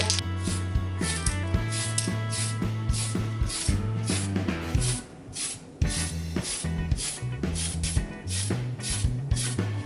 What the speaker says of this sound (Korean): 도색할 초록색 하울은 흰색으로 먼저 한번 덮어주도록 하겠습니다